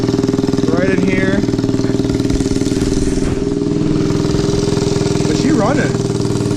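A small Honda Z50 motorcycle engine with an exhaust leak idles steadily up close with a raspy, uneven exhaust note, while a person talks briefly over it a couple of times.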